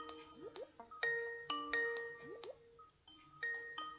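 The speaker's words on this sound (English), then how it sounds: "It's ringing, Mwalimu Chaka." Melodic ringing tone on an outgoing phone call, repeated chiming note patterns with short gaps, clear and close.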